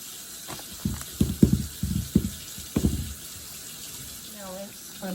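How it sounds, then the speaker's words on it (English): Kitchen tap water splashing over potatoes being rinsed in a sink, several short uneven bursts of running water nearby, with someone talking briefly afterward. "So just rinsing off these potatoes."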